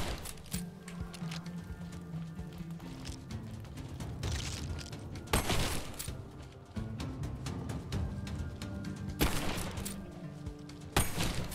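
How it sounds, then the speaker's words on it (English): Sniper rifle firing fire bullets in a video game, heard as repeated sharp shots with bursts and booms scattered across the clip amid busy game sound. "I got a sniper with fire bullets"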